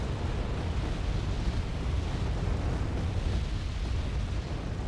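Rocket artillery salvos pounding a position in the real-time strategy game Wargame: Red Dragon, a steady low rumbling roar of overlapping distant blasts that carries without a break.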